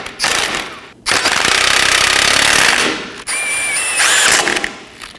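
Loud impact-wrench bursts snug down the lower control arm bolts and fasteners on a 2020-2027 Toyota Corolla's right front suspension, three sustained rattling runs with short pauses between them, close up and with no talk.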